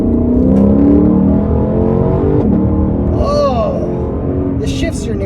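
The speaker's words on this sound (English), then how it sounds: "One thing I notice about this car is that it gets up to speed very quickly." A Lexus LC 500 accelerating from a standstill, its engine note rising through quick gear shifts as a steady loud drone inside the cabin, with a brief whine near the middle.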